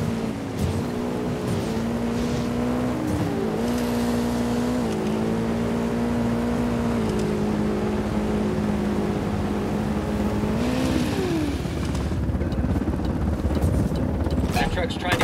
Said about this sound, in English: Chopper inbound.